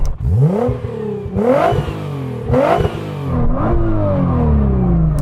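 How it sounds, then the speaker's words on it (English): A Nissan GT-R Nismo R35 engine revs hard three times in quick succession, each rise and drop clear and close, ending in a rough idle. "So I'm going to rev up my GTR."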